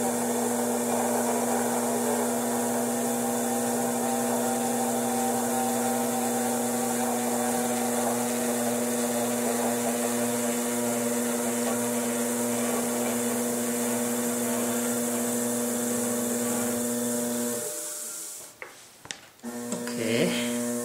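Steady motorised hum of a spinning pottery wheel while a hacksaw blade trimming tool chatters on the clay, continuous for most of the stretch before the wheel stops amid a few brief knocks.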